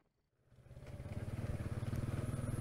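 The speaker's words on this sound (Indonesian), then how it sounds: "Kami ke sana naik motor." A motorcycle starting off for a ride, its engine building from quiet to a steady, rhythmic near putter that holds for the last couple of seconds.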